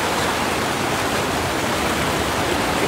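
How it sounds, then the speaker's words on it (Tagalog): Strong, rushing river water at a fishing spot where nets are cast, a dense, steady roar that stays loud and unbroken throughout with no pauses. "Sobrang lakas ng tubig"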